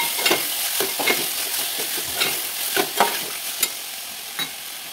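Ingredients for masala rice roasting in a pan, with steady frying and a series of sharp stirring scrapes and taps at irregular intervals, close and fairly loud.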